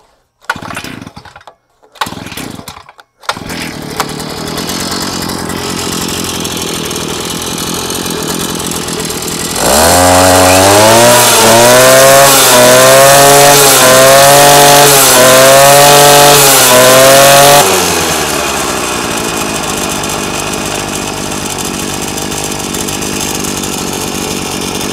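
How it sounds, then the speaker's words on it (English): A brand-new small gas engine on a 14-inch JACKCHEN cut-off saw sputters, then roars to life with a loud, revving drone that settles into a steady high idle, alone without voices. "Not a bad startup for a new engine"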